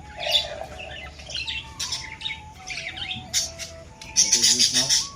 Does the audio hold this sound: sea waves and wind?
no